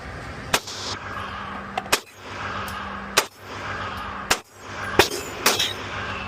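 An Alpha Foxtrot Romulus handgun fires single shots at a range, about six sharp loud cracks spaced a second or so apart over a steady background hum, with no talking.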